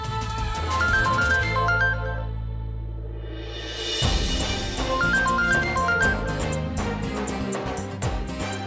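A mobile phone ringtone plays a bright repeating melodic phrase, loud and near, pausing briefly before the tune starts again over a busy musical backing.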